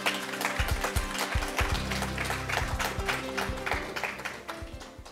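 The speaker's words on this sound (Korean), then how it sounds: "큰 박수로 환영해 주시기 바랍니다" An audience at a history lecture welcomes the speaker with steady applause, with some sharper individual claps and low thuds from nearby. The clapping is fairly quiet and continuous and tapers toward the end.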